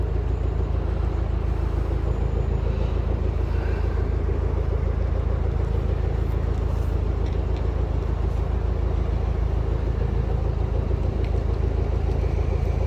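A boat motors across the River Mersey, its engine a steady, close, droning thrum that holds constant throughout with no pauses or voices.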